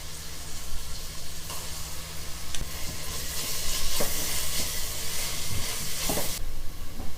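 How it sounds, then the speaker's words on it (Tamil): Ginger garlic paste sautés in hot oil with salt and onions in a pan for fish biryani, a close, continuous sizzle with occasional scrapes and clicks of stirring. "இஞ்சி பூண்டு பேஸ்ட்டு வதங்கிடுச்சுங்க."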